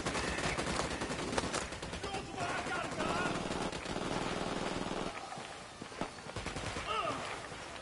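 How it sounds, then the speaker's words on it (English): Rapid automatic gunfire in the video game Ghost Recon Wildlands, dense bursts of shots rattling continuously for several seconds with a brief lull, loud and close, with game voices mixed underneath. "I'm opening fire."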